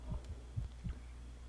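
A heartbeat pounds in the video game The Letter, a deep thumping lub-dub repeating in a steady rhythm over a low hum.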